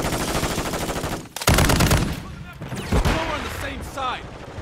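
Loud shotgun blasts in a first-person shooter game, with a heavy boom after a stretch of rapid gunfire, while someone speaks excitedly over the noise.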